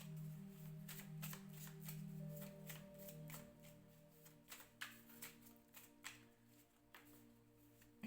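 Tarot cards being shuffled by hand, a steady run of crisp riffling and flicking with sharp taps near the end, over a low steady hum and no talking.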